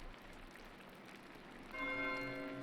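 A church bell rings in the medieval video game Pentiment, with sustained metallic tones entering partway through. It sounds somewhat distant over a steady hiss of ambient background noise.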